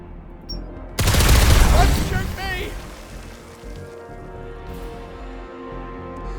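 Enemy gunfire in the video game Every Day We Fight: a loud, dense burst of rapid shots lasting about a second, then fading into a low ambient rumble.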